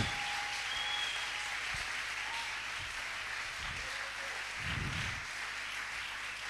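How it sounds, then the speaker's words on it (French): A church congregation applauds the Lord: sustained, even clapping and cheering from a crowd in a large hall, with a few voices rising over it now and then. "On acclame le Seigneur très fort."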